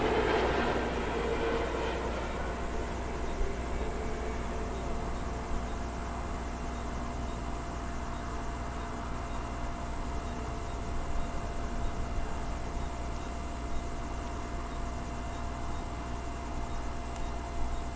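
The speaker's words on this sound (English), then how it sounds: "Yet another Aer Lingus inbound to the northern runway here at Heathrow, this one in from Dublin." An Aer Lingus airliner from Dublin on approach to Heathrow's northern runway, a broad, steady jet roar with a faint whine, holding at an even, moderate level, no talk.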